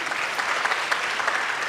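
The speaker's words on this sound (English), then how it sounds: "A big round of applause again." Audience at a talk on Vedic techniques for stress management breaks into a brief, steady round of applause, dense clapping at close range with no gaps.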